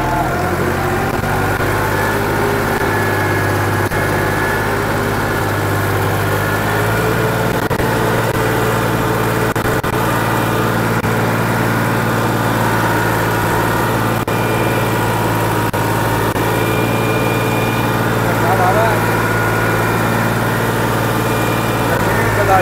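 A Massey Ferguson 260 Deluxe tractor engine runs steadily and loudly nearby while pulling a laser land leveller, a constant droning rumble that holds without change for the whole stretch.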